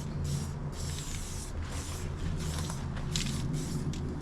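Aerosol primer sprayed onto a car bulkhead repair comes as repeated short hissing bursts over a low background rumble, with no talking.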